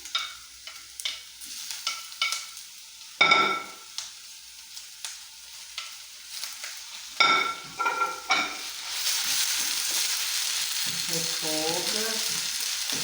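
Chicory greens being sautéed in a pan, a steady close sizzle and frying hiss with repeated stirring scrapes and clinks of utensil against the pan.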